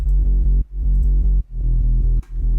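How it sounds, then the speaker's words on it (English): A gritty, saturated bass synth with its highs rolled off, from an EDM/rock remix, plays loud droning notes in phrases broken by short gaps, heard alone without talk. "This gritty bass 1."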